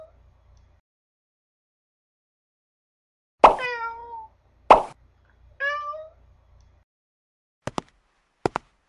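A stray kitten gives two clear, plaintive meows close by, separated by sharp plops and followed by a few brief clicks in otherwise quiet surroundings.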